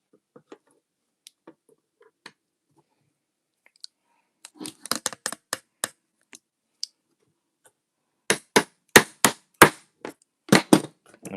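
A hammer taps on a part of an OS 4-stroke RC nitro engine being disassembled, first as a few sparse light ticks, then as bursts of sharp, close metallic blows in quick succession.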